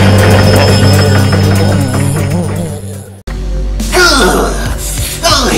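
A gear-grinding sound effect, a loud mechanical ratcheting and clanking with a whirring tone, cuts off abruptly and then returns as harsher grinding noise, close and dominant.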